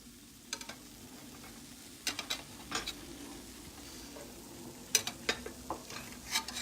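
Pumpkin French toast sizzling gently in a pan, a quiet steady fry with several short scrapes and taps of a utensil.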